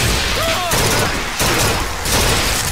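Rapid bursts of machine gun fire in the first-person shooter game Bioshock Infinite, loud and close, coming in repeated volleys with brief gaps between them.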